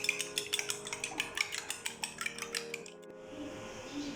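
Three eggs beaten in a bowl for a kabab omelette, with a utensil clinking fast and rhythmically against the dish for about three seconds before it stops. No one speaks.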